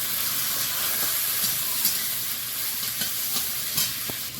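Nigella seeds, chopped garlic, onion and green chili sizzle steadily in hot frying oil, a dense close hiss with faint stirring scrapes and no voices.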